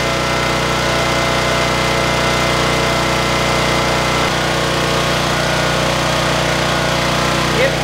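A converted tri-fuel generator runs with a little choke applied, a steady, close engine drone with a low hum and no breaks, holding one even pitch throughout.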